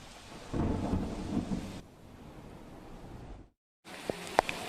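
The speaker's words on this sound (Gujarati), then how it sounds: "એક તરફ ધોધમાર વરસાદ વરસી રહ્યો છે" Heavy downpour during flooding in Surat's Sanjay Nagar, a dense rush of rain with a low rumble that drops away, cuts briefly to silence, then returns with a few sharp knocks.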